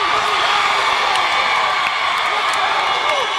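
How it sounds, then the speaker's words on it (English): Monument Valley basketball fans in a gym during a 3A North Region semifinal against Tuba City, a loud, sustained roar of crowd cheering with whoops and shouts blending into a continuous din. "I have not heard Monument Valley make this much noise, I don't think, in a really long time"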